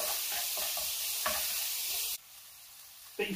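Onions and chilies sweating in a hot pan for chilli beef tacos, a steady sizzle broken by repeated stirring scrapes, then it drops quieter before one last clatter near the end.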